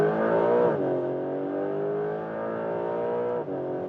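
A Porsche 911 GTS 4 Hybrid engine hums steadily from inside the cabin on a racetrack in Sport Plus mode, its pitch dipping as gears shift, with a brief rise and drop near the end.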